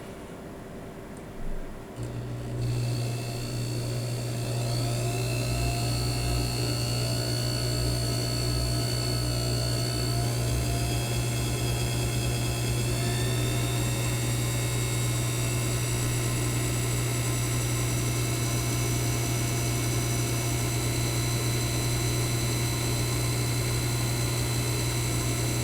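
A small lathe runs steadily while facing off a watch jewel setting, a continuous machine hum with a bright whine above it, held close and unbroken without any talking.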